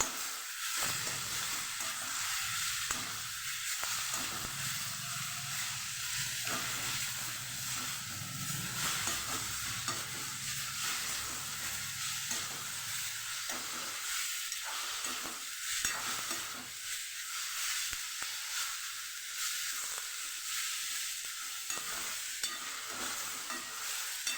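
Steady sizzling of grated radish and chilies sautéing in a hot pan, a continuous hiss with occasional stirring scrapes, close and fairly loud, with no voices.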